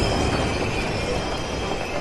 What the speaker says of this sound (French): Des trains? Sous terre?